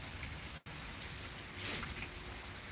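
Steady rain from a thunderstorm in Pittsburg, Kansas pours down as a dense, even hiss of drops hitting surfaces, fairly quiet, with a brief dropout early on and no voices.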